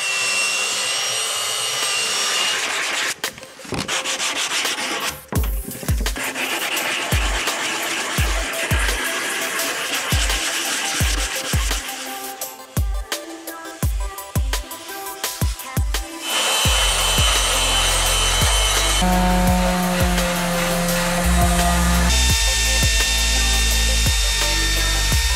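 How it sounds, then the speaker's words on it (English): A belt sander shapes wooden spar parts for a sailing canoe, with a loud abrasive whine broken by repeated rhythmic knocks and grinding contacts that settles into a steadier, louder sanding roar toward the end. "And now I'm just going to take my belt sander and give them a nice and round shape."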